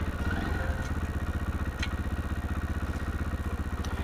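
A Fekon Mini Scrambler 150 motorcycle engine idles in neutral, a steady, close, low, rapid thumping pulse with faint mechanical clatter and no talking.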